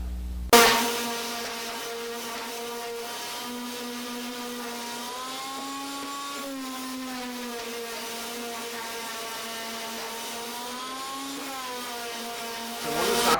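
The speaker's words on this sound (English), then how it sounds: "I really do actually use my benchtop sander table" A benchtop sander table starts up with a sharp onset and runs as a steady whining motor hum with slightly wavering pitch, close and continuous until it is switched off near the end.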